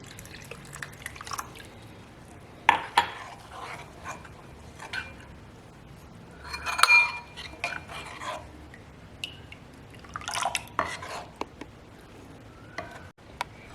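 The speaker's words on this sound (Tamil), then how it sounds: "இதை நல்லா ரவா தோசை மாவு மாதிரி நல்லா மிக்ஸ் பண்ணிக்கலாம் தண்ணியாக" Kambu (pearl millet) dosa batter is stirred with water in a bowl, giving intermittent wet slaps, drips and occasional spoon clinks against the bowl, close and fairly quiet, with no talking.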